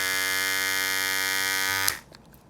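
A Cutting Edge T-Blade trimmer, model CXE1-1001, runs with a loud, steady electric buzz for nearly two seconds, then cuts off abruptly with a small click as it stops.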